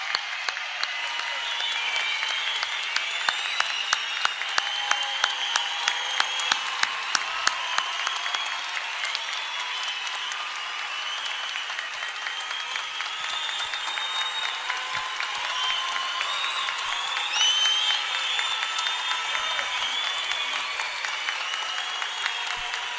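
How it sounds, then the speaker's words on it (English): A large crowd at a Latin America victory celebration applauds steadily to welcome True Mother, dense sustained clapping with some rhythmic unison claps and faint cheers mixed in. "Let's receive True Mother with a great round of applause."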